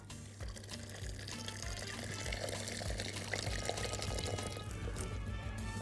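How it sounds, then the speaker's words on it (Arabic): Water poured from a tap into a cooking pot holding chopped onions and whole garlic cloves for a vegetable soup, a steady rushing pour that runs the whole time against a low kitchen hum. "احط له ميه واخليه يسلق"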